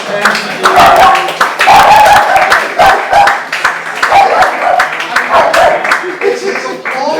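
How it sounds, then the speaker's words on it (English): An audience at a live showman's stage performance claps in uneven bursts, with talking and a few chuckles mixed through the applause. "It's applause."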